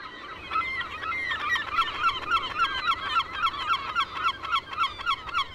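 A dense colony of gulls nesting on a 95-acre island, many birds calling at once in a constant loud chorus of overlapping squawks and rhythmic honking cries, with no voices.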